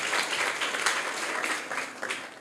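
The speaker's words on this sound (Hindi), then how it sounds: "तो आप लोग इनके लिए तालियां बजाइए।" Schoolchildren in a classroom at a private inter college in Varanasi clap together, a short burst of dense, lively applause filling the room.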